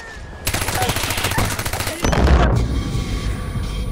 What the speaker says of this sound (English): I'm on the mounted gun!